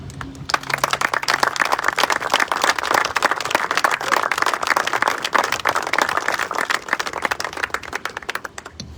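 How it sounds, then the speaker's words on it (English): An audience at a captain's retirement ceremony gives a round of applause, a dense, lively patter of many hands clapping at close range for several seconds before tapering off at the end. "Ladies and gentlemen, a round of applause for Stacy Brown"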